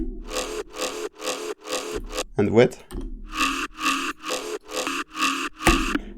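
Gritty bass synth from a Patreon pack, playing a chopped, pulsing pattern of evenly spaced loud bursts with a brief talking voice breaking in mid-way.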